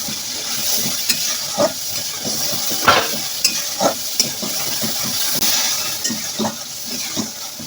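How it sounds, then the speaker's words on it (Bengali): Onions, green chillies and spices frying in oil, with a constant crackling sizzle broken by repeated scraping stirs, close and fairly loud, and no talking. "মশলা দিয়ে ভালো করে কষাতে থাকবো"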